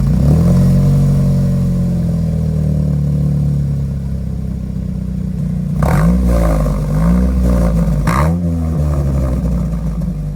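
A '73 BMW 2002 with a Solstice engine swap and a motorcycle muffler idles with a raspy, steady drone before two quick throttle blips, close and fairly loud.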